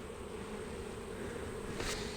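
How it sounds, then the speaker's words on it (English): Robber bees buzz in a dense, steady swarm around a beehive entrance, a continuous near drone with a brief louder swell toward the end. "you can see all the bees grouping up there trying to get in"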